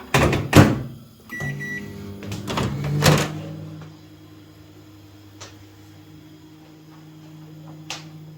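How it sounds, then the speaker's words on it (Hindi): A door thumps shut and a few clicks sound, then a microwave oven hums steadily in the background with a soft click near the end. "अब इसको रखेंगे माइक्रोवेव में।"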